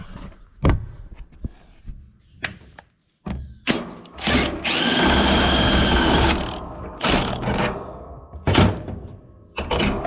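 A socket wrench tightens a bolt back down on a Gleaner R72 combine, giving close, loud bursts of ratcheting clicks and metallic clanks, with one sustained grinding run in the middle and no talk.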